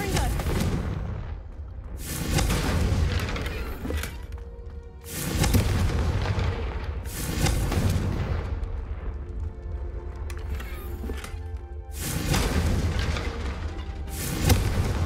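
Repeated booming blasts from a fire spell cast in Hogwarts Legacy, loud and close, erupting about every two seconds with rumbling tails between them.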